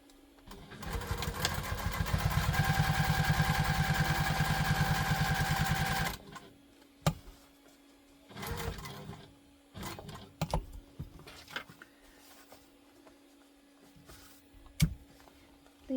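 A sewing machine top stitches a tote bag in one sustained, close, buzzing run of several seconds, followed by scattered clicks and handling noises in a quiet room.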